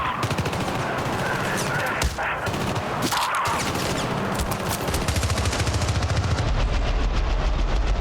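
Continuous rapid gunfire in the video game Syndicate, dense overlapping bursts of automatic weapons and heavy shots pounding without pause, loud and close throughout.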